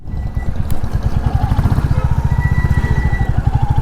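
A Royal Enfield Bullet 350 Battalion Black motorcycle being ridden gives a steady, loud thumping engine note with rapid regular pulses, close to the microphone, alongside some wind and road noise.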